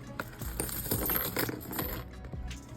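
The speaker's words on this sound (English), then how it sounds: "I keep stuffing this with too much change. So I'm gonna dump all this out." Coins clatter and jingle as a pile of loose change is tipped out of a wallet, a busy metallic rattle up close that thins toward the end.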